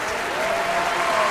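Steady audience applause fills a comedy variety show, a dense, continuous wash of clapping from a crowd, loud and even throughout with no pauses.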